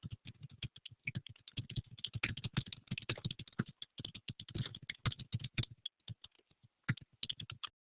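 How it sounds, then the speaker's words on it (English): Someone types on a computer keyboard close by, with rapid, irregular keystrokes running almost continuously and a short pause near the end before a few final taps. "I'm going to just type the summary that we have up there down here."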